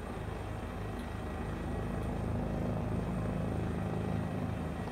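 Helicopter lifting off in a VR flight simulator game, a continuous whirring rotor and turbine drone with a faint rhythmic chop, slowly swelling in loudness over several seconds with no voices.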